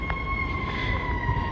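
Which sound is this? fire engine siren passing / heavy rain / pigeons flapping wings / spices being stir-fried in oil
fire engine siren passing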